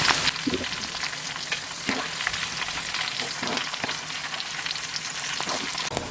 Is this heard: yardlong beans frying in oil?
yes